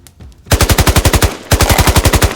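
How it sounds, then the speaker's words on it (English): Small arms fire as a sound effect in a 1/18 scale action figure backyard wargame: two loud, close, rapid automatic bursts of evenly spaced shots, with a short break between them. "a surge of small arms fire took out my 2 teams"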